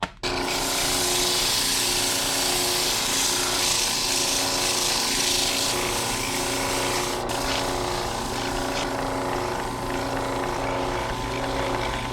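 A wooden bowl spins on a lathe while sandpaper is held against it, giving a steady, loud rubbing drone over the motor's hum that runs unbroken for the whole stretch.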